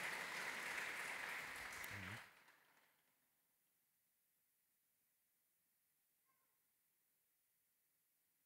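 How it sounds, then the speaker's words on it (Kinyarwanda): Audience at a ceremony welcoming new members to Father's Union gives a short burst of loud applause that stops abruptly after about two seconds, leaving near silence. "Amashyi menshi cyane bene data."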